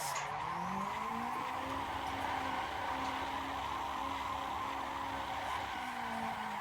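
Sustained tire skid from a drifting car in the Assetto Corsa racing game, rounding close along a wall, with a steady engine drone and a squealing, wavering tire pitch running throughout, loud and continuous without speech.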